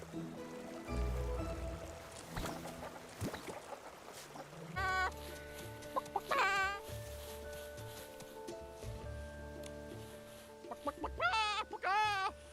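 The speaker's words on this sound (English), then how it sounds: "Could it be that this giant Barrison has some hidden device that makes it cluck when you press it?" Cartoonish clucking from the video game Infinity Nikki, several bursts of chicken-like calls over soft game music, clearest near the middle and again toward the end.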